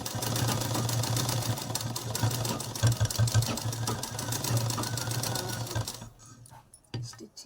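Sewing machine stitching a small child's cloth face mask, a loud, steady rapid whirring with a fast mechanical chatter that runs continuously before stopping near the end, leaving a few faint clicks.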